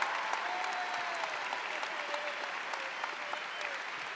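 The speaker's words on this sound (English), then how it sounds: "Give them a huge round of applause, Rob and Emma." Audience applause at MINECON 2015, a Minecraft convention closing ceremony, a dense steady roar of clapping from a large crowd, sustained and even throughout.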